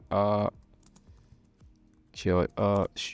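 Keys clatter softly as an nmap command is typed on a computer keyboard, the light clicks falling in a quiet gap between bursts of nearby talking.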